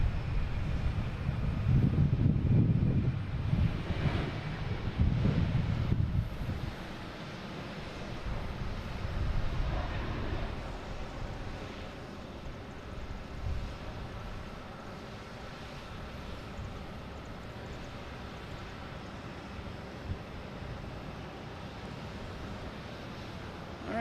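An airliner taking off at Boston Logan International Airport heard from a distance, a broad low rumbling roar that swells early and then fades into steady wind-blown jet noise.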